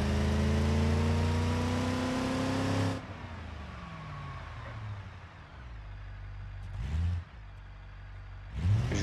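A car engine in the BeamNG driving game revs loudly as the vehicle moves into position, then drops to a low idle hum, with two more brief rising revs near the end.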